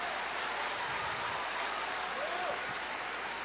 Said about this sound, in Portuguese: Se é para aplaudir, aplaude todo mundo junto com vontade.